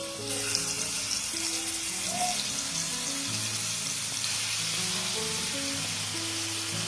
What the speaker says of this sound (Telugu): ఇప్పుడు ఈ పన్నీర్ పీసెస్ ని ఒక్కొక్కటిగా నూనెలో వేసుకోవాలి